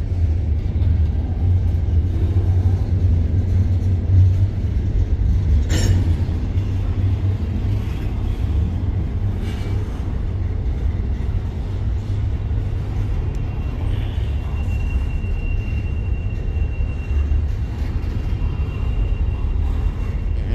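A freight train pulls away, a continuous low rumble and grinding drone that stays loud and near throughout, with a faint squeal partway through and no talking.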